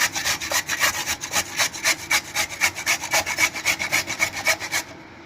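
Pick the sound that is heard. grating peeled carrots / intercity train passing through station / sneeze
grating peeled carrots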